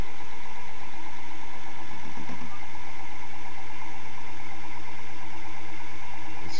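An experimental Bedini three-phase DC pulse motor with a rotor of neodymium magnets runs with a steady, continuous hum and whir, loud and close, with no talk.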